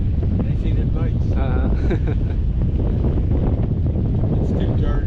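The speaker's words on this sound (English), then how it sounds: "Too much wind." Strong wind buffets a microphone on a fishing pier at a boat launch, a loud, constant rumbling roar, with people talking faintly beneath it.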